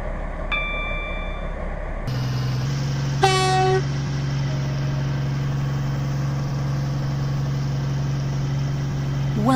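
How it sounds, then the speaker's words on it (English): Train pulling into a station platform in the Roblox game Stepford County Railway, with a steady low engine drone, a brief electronic chime early on and a short horn toot partway through. "The train now approaching."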